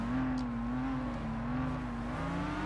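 A tuned Nissan Skyline GT-R Carbon R engine drones under load as the rear tyres slide in Gran Turismo 6, a steady sustained tone holding near-constant pitch, fairly close and alone.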